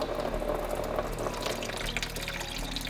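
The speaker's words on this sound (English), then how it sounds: "I'm throwing a gallon of water to run through the radiator just to kind of get the acidic residue out" Water from a gallon jug gushing into and running through the radiator of a 1950s MG-TD barn-find car, a continuous close splashing, gurgling flow at a steady level throughout.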